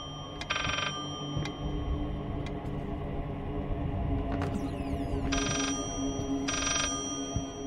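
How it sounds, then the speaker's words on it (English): Three bursts of a bell-like phone ring in the horror game Layers of Fear, each lasting about half a second, sound over a steady low ambient drone with faint clicks, with no talking. "it's like I heard a phone, but I don't see a phone"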